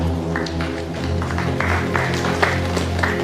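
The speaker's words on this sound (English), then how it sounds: "I don't like them half claps" Sparse, half-hearted clapping from a small group in a film scene, a few scattered claps over a steady humming tone in the background.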